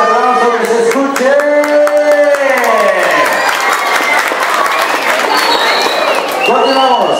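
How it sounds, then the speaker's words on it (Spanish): Loud applause and clapping from guests at a quinceañera party, sustained throughout with crowd noise and cheering, while music with a melodic line plays alongside and voices mingle in. "A ver, a la cuenta de tres, fuerte el aplauso, que se escuche."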